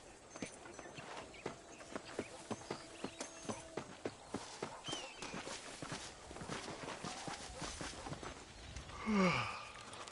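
Horse hooves clip-clop at a steady walking rhythm in the Red Dead Redemption western game, a regular series of soft knocks over a busy ambient bed, with a brief louder swell near the end.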